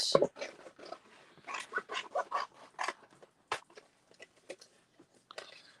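Scissors roughly cutting paper around a shape during a mixed media craft session, giving a run of short crisp snips and rustles, close and fairly loud at first, then fainter and sparser.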